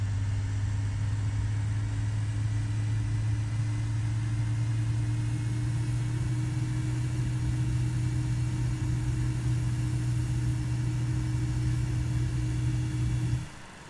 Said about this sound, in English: It's a good engine start to me.